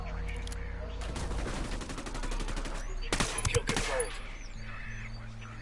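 Gunfire in the shooter video game Ghost Recon, with bursts of rapid automatic shots and a louder cluster of close reports, against steady game ambience.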